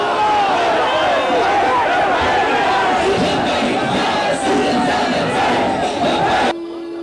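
A large crowd roars out a religious slogan in unison, a loud sustained chant with layered voices that swell together and then cut off abruptly near the end.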